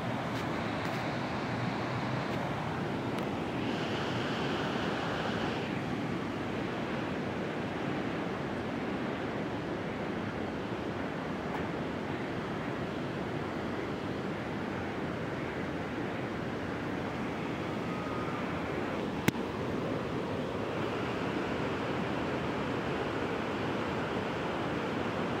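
Heavy water roaring and crashing at Iguazú Falls, a steady dense rush of falling water with wind buffeting the microphone, continuous and loud throughout with no talking.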